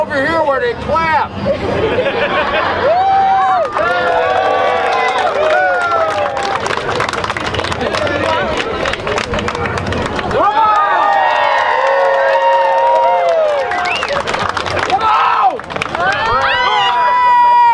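A crowd claps and cheers loudly, bursts of applause and whoops rising and falling, with a voice calling out over the noise.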